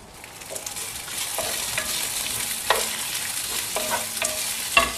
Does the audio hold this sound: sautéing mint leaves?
yes